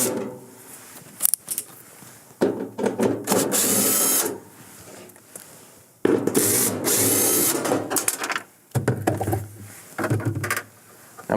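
Power drill backing 1/4-inch screws out of an evaporator cover on an Estate refrigerator with a defrost heater fault, loud whirring bursts of a few seconds each, separated by clicks and handling noise, with no speech.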